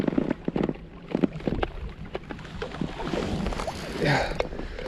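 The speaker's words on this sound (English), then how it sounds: "I need to turn the engine off, I think." A fishing boat's engine, out on the water while a hooked pike is being fought, rumbles close by amid wind buffeting and knocking bumps before it is shut off.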